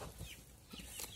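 A chicken being slaughtered to order gives faint, scattered clucks against a soft outdoor background, with no talk heard.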